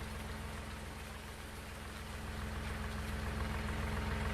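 Steady rain pattering down in Farming Simulator 19, a dense even hiss that swells slightly louder toward the end, with a faint low engine idle underneath and no talking.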